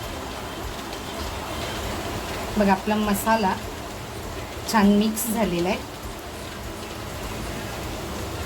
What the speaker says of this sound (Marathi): तुम्हाला ऐकायला येतच असेल तुफान पावसाची बॅटिंग चालू चालू आहे